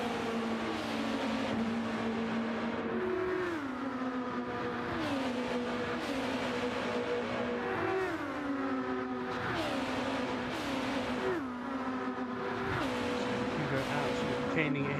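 Ferrari 296 race car engine lapping Spa-Francorchamps in a racing video game, a steady loud engine drone rising and dropping through repeated gear shifts across the run, with commentary voices talking over it throughout.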